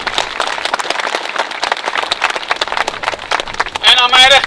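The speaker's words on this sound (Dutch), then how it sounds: "Inderdaad, een applaus." A crowd claps steadily with a voice talking over the applause; near the end a shrill, wavering piping tone starts up.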